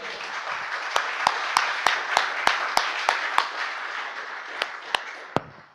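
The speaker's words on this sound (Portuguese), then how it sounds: "Palmas ao Senhor comigo, por favor." A church congregation applauds steadily, with sharp, loud rhythmic claps cutting through the wash of clapping before it fades out.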